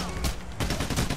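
Bursts of gunfire from a PAYDAY heist game, loud and rapid, with a brief lull before the shots resume; in-game voices may sit underneath.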